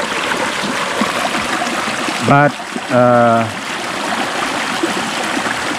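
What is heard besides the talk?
stream water flowing from Mount Insarog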